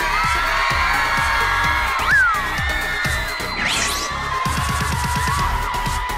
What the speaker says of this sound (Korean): 만능 엔터테이너 유이 씨를 큰 박수로